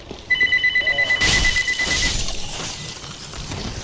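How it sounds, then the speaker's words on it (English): A phone rings with a rapid, bright electronic trill repeating for about two seconds, cut across by a sudden crash-like burst of noise, then fading into a dim background hiss. "My phone's ringing. It won't stop."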